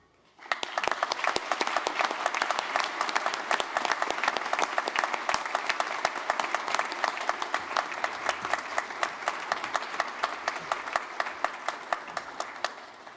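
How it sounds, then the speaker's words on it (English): Sustained audience applause at a Wrexham University graduation ceremony, dense steady clapping from a large hall crowd lasting over twelve seconds before tapering off. "Please join me in a round of applause to thank your support networks for their help and guidance"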